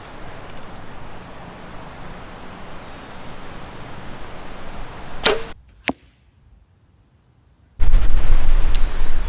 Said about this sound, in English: Go ahead and shoot our second shot.